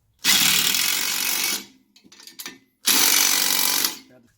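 A power tool running down a bolt on a trash cart carrier whirs loudly in two bursts of about a second each, with brief clattering and handling noises in the pause between.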